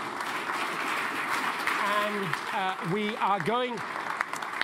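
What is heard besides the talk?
audience applause for the panel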